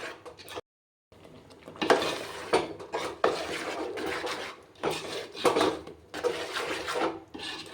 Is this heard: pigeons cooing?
no